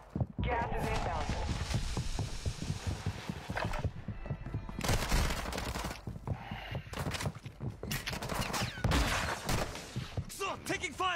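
Bursts of video game gunfire crackle and pop through a busy battle-royale firefight, mixed with footstep-like clatter and other scattered game effects, varying in density across the stretch.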